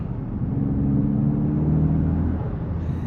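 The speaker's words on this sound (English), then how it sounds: "You can definitely feel and hear the turbocharger" Turbocharged engine of a 2025 VW Golf R in manual mode, a steady low droning hum with rising harmonic whine, heard from inside the cabin for about three seconds.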